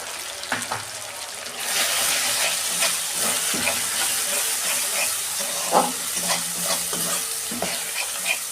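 Ground chili, cumin, coriander and turmeric sizzle in hot oil with young jackfruit and prawns, the steady frying hiss starting after a brief quiet and broken by repeated close scrapes of stirring.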